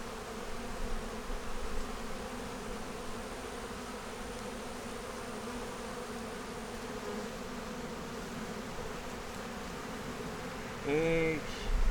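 Honey bees buzz around open hive frames, a steady, faint, low droning hum that carries on throughout, with a brief rustle near the end.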